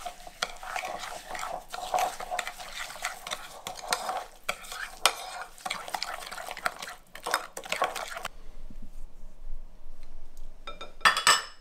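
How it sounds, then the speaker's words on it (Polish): Pumpkin cookie batter with coconut sugar and melted coconut oil is stirred in a bowl, a steady scraping and clinking of utensil against dish for about eight seconds, then near quiet with a brief clatter at the end. "Mieszamy."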